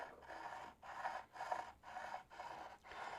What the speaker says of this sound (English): you want to make sure that you are filing as perpendicular to the fretboard as possible